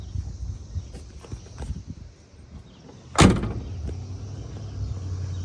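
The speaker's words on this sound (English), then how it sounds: "Doors open nicely, open really nicely. And they close nicely." A door on a 1969 Chevy Camaro Rally Sport swings shut with one sharp, solid thunk, preceded by faint handling clicks. A low idle hum follows.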